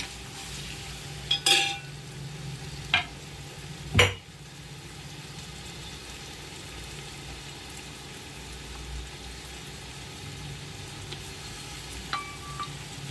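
Tomatoes and potatoes sauté in oil in a cooking pot, a low, steady sizzle broken by a few sharp utensil clinks against the pan.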